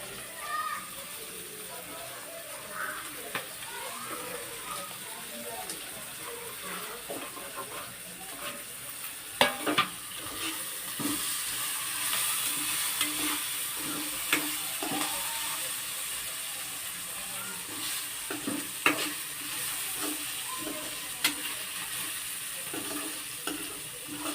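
Peanuts and potato frying in a pan give a low steady sizzle with occasional scraping and clinks as they are stirred, while a voice talks over the cooking.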